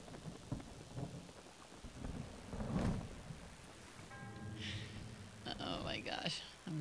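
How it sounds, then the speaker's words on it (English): Rain falling in the video game Breath of the Wild, a steady soft wash running through the scene while someone speaks over it and brief game sound effects chime in. "Of course it's raining."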